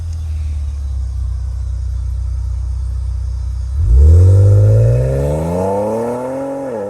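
A Ford Explorer ST engine with an MBRP Street aftermarket exhaust idles with a deep rumble, then sharply revs up, its turbocharged exhaust note rising and falling close by.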